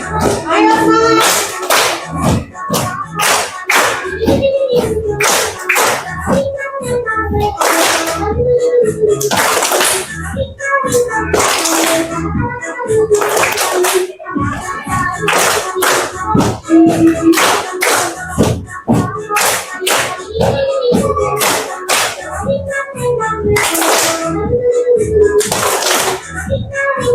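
A group at a teacher training session claps along to a standing movement exercise, sharp repeated bursts of hands in a rhythmic pattern, loud and close, with a voice speaking and calling out between the claps throughout.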